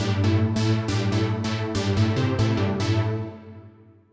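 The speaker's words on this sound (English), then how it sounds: "let's try this bright, punchy synth" Bright, punchy Alchemy synth in Logic Pro playing a rhythmic run of sharp-attack chords over a low bass, loud and close, ending in a fading decay, with no talking.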